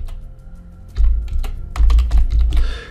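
Typing on a computer keyboard: a quiet lead-in, then quick bursts of close, crisp key clicks with irregular rhythm and heavier thumps of keystrokes, no voice over it.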